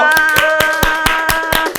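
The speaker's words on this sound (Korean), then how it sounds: "박수!" A short burst of hand clapping, brisk and close, with sharp individual claps in a quick rhythm before it cuts off.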